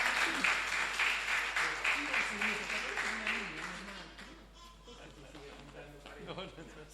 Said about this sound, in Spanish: Recibimos con este fuerte aplauso a un amigo de la casa.